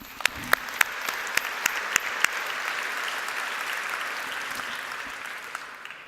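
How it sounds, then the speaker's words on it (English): Steady audience applause fills a conference hall at the opening session of the CTBTO Science and Technology 2019 conference, with a few sharp claps standing out early before the clapping settles into an even, sustained patter. "So a round of applause for that, thank you."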